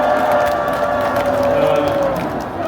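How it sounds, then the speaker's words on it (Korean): A large crowd at an outdoor anti-impeachment rally in Gwanghwamun applauds and cheers in a steady, loud, continuous roar, with a voice carrying over it. "박수 한번 보내주시기 바랍니다."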